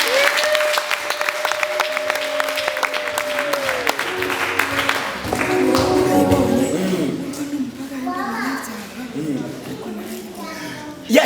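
A church congregation claps loudly and steadily in praise, with a sustained sung or held note over the start, then the clapping fades under voices and rising cheers near the end.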